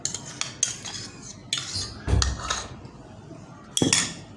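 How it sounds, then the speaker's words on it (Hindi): A spoon mixes yogurt and spices into raw minced chicken keema in a metal bowl, giving several separate clanks and scraping clinks at uneven intervals, loud and close, with no talking. "इसको अच्छी तरीके से मिक्स कर देंगे ताकि इसमें सारे मसाले जो है अच्छी तरीके से मिक्स हो जाएं"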